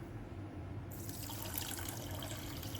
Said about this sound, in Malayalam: ഷുഗർ എടുത്ത സെയിം ബൗളിൽ തന്നെ to fifty M L water എടുത്തിട്ടുണ്ട് അതിനി ഈ പാനിലോട്ട് ഒഴിച്ചു കൊടുക്കാം